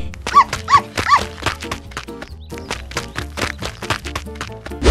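Dog barking in a rapid series of sharp, loud barks, closely spaced and repeating throughout, near and dominant.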